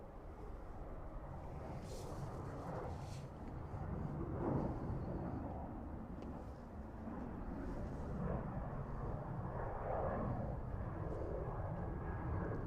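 A four-year-old Ryanair jet approaches Dublin Airport at about 3,000 feet, heard as a steady, distant engine rumble that swells slightly midway, with faint voices underneath.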